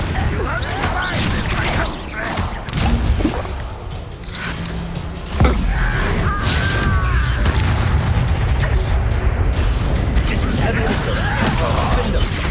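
A Confringo blasting spell in Hogwarts Legacy detonates with one loud, sudden boom partway through, followed by a sustained rumbling roar, set among combat noises and character voices.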